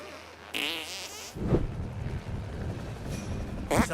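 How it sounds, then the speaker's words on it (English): A cartoonish video game fart, sent out by pressing a controller button, opens with a brief high squeal and then breaks into a low, spluttering rumble that lasts a few seconds, close and fairly loud. "Hold down R and push to send out a fart."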